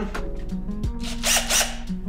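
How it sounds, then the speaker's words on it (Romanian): An electric drill runs in a metal workshop, giving short whining bursts that rise and cut off, close and fairly loud against a quiet mechanical background. "În aceste procedee ne ajutăm deseori de bormașină"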